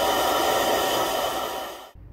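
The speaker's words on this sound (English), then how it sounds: "I'll give them a little time to dry, either just setting them aside or using the hair dryer" A hair dryer blows a steady, loud rush of air over freshly painted scale-model parts, then cuts off abruptly near the end.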